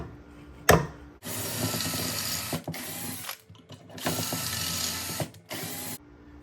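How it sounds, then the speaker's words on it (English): A power drill bores pocket holes into a wooden Plinko board frame, several separate bursts of loud whirring cut by pauses and a sharp click at the start, with no talking. "Drill pocket holes on each end of the 3 inner supports and at the inside bottom of the side of the frame."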